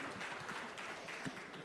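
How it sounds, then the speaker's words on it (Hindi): Steady applause from an audience welcoming guest Gajendra Singh Shekhawat at a public event in Jodhpur, a fairly quiet, even wash of clapping through the whole short stretch with no voices standing out. "बहुत बहुत तालियों के साथ स्वागत होना चाहिए"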